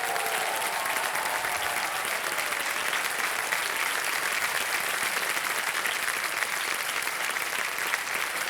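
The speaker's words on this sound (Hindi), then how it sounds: "वाह, ताली बज जाए इनके लिए।" Studio audience applauding on the KBC quiz show, a dense, sustained burst of clapping that carries steadily through without talk.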